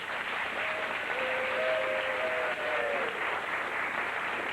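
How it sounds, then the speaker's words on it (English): Studio audience at a 1992 Blockbusters game show applauding, a dense, steady wash of clapping hands that carries on throughout without a break. "Give them a big round of applause."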